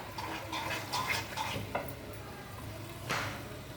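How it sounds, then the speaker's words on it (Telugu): Tempering spices sizzle in hot oil for a gongura curry, a steady close hiss and crackle with occasional soft stirring scrapes and metal clinks, no voices. "ఇప్పుడు నూనె కాగుతుందండి. ఒక 2 స్పూన్లు వేసాను. మరి ఆ కూరలో నూనె పడింది కదా, చక్కగా పోపు వేసేస్తున్నానండి."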